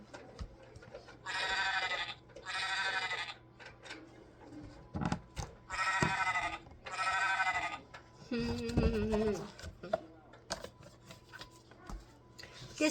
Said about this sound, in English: And then the sheep.